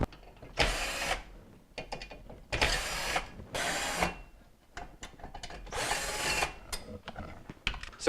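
A power driver backs out #2 Phillips screws holding the top panel of a GE stove to its burner assemblies. It runs in four or five short whirring bursts with ratcheting clicks between them, close and fairly loud.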